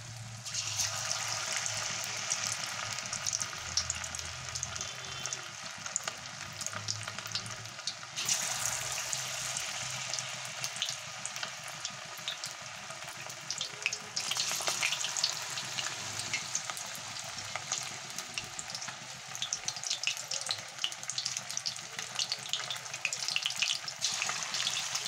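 Battered topse (mango) fish deep frying in oil, a steady broadband crackle and hiss that stays loud and continuous throughout, with brief surges of bubbling and no voices.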